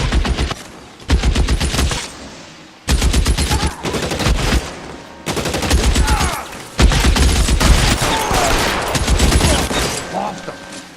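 Rapid bursts of automatic gunfire rattle loudly in the video game L.A. Noire, several sustained volleys separated by brief pauses, with voices talking beneath the shooting.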